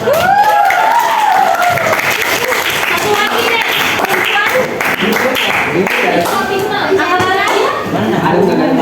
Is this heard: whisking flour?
no